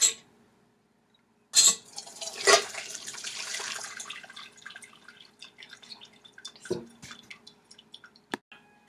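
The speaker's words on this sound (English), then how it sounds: "you're going to pour it into a strainer over a large bowl." Homemade apple cider is poured through a strainer into a large bowl, giving sharp splashes followed by trickling and dripping that tapers into scattered drips.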